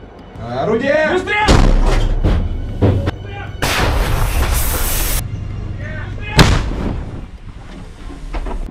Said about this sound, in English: Russian artillery opens up.